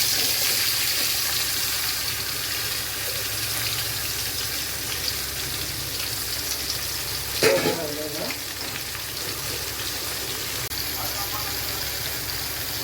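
Banana finger fry sizzles in a pan, coated in chilli powder, salt and turmeric, a steady close frying hiss with a brief stirring clatter midway.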